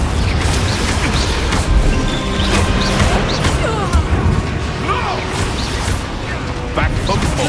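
Blasting-spell explosion from the Hogwarts Legacy video game, a dense, loud crashing roar that stays continuous throughout with layered battle noise and rumbling debris, and talk occurring in the scene.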